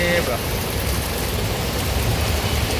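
Heavy rain pours during a Ganesh idol arrival procession in Dombivli, a loud, dense and continuous hiss of falling water that fills the whole scene.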